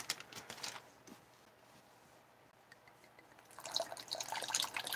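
Water being poured into a container to dilute a mix, a soft splashing trickle at the start that fades, then a louder, brighter stream of pouring liquid toward the end, close by without speech.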